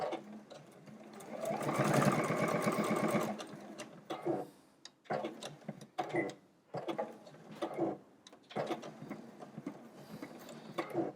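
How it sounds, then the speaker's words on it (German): Sewing machine stitching quilt binding for hexagon and octagon quilts, a loud steady whirring run of stitches followed by short bursts as it sews up to a fold and backstitches, all alone with no talk. "jetzt nähe ich mit meiner Nadel genau bis zu dieser Knickfalte und verriegle"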